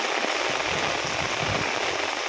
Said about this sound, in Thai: โอ้ฝนตกหนัก